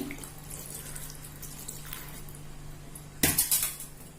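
After a quiet stretch, water splashes briefly into a pot of vegetables for white sambar for under a second, close and fairly loud, with no talk.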